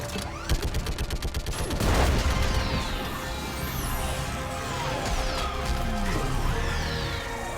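Rapid automatic gunfire bursts rattle against a Reaper in Mass Effect 3, a dense fusillade of loud shots giving way to continuous booming battle noise with whooshing projectiles.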